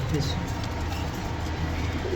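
Silver, aluminium and Benji pigeons in a loft coo in low, repeated murmurs throughout, close by and fairly steady, with a faint background hum.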